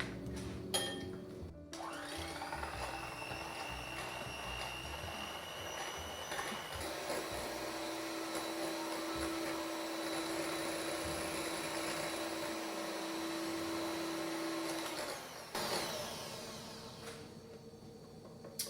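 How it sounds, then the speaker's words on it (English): An electric mixer whips sweetener toward stiff peaks for a low-carb chocolate peanut butter pie, its motor whirring steadily with a high whine for about fourteen seconds before winding down. "Gonna mix this together until I get stiff peaks."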